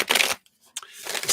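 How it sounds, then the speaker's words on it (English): A tarot card deck is shuffled nearby in two quick riffled bursts separated by a short pause, crisp and papery. "Let's get this shuffling and we will get into it."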